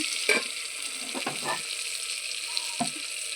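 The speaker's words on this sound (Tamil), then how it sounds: "வெங்காயம் தக்காளி நல்லா வதங்கிடுச்சு" Onions and tomatoes sautéing in a pan for a dried-fish kuzhambu, a faint steady sizzle with a few brief scraping stirs and clinks, close by with no talk.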